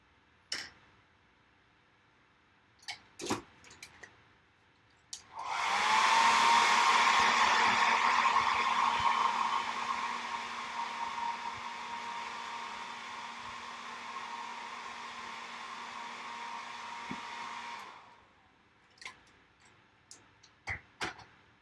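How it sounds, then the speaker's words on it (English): Hair dryer switched on with a sharp start, running loud and steady with a whining tone for about twelve seconds before shutting off, scattered small clicks and taps before and after. "my favorite thing about that hair dryer, outside of the fact that it works"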